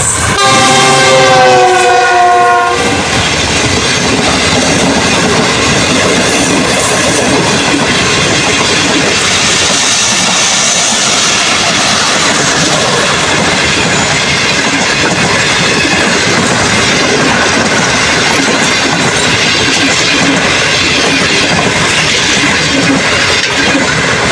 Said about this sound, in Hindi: ये शालीमार एक्सप्रेस 28 DN, ये देख सकते हैं आप, लाहौर से मुल्तान पहुंच चुकी है।